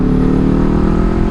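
A 2024 Kawasaki Ninja 500 with a cheap $60 aftermarket slip-on exhaust drones steadily at close range, a loud, throaty engine note holding a continuous rumble throughout the short stretch.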